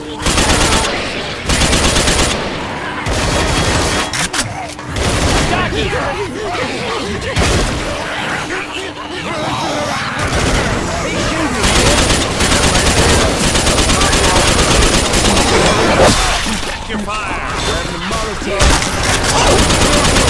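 Dense automatic gunfire in Left 4 Dead 2 co-op gameplay on the Sacrifice campaign, continuous loud bursts and rattling shots filling the whole stretch, with occasional voices mixed in.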